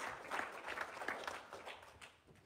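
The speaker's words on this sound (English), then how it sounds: "give him a hand clap wherever you're at." Scattered hand clapping from a church congregation, irregular and fairly close, with no voices.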